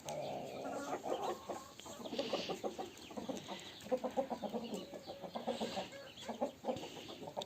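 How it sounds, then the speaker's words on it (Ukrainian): Roosters scuffle nearby, with rapid flurries of clucks, squawks and flapping that come in uneven bursts throughout. "Б'ються півні."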